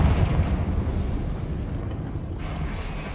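A Confringo spell explodes in the video game Hogwarts Legacy, a loud rumbling blast that rolls on for about three seconds, swelling again near the end, with no one talking.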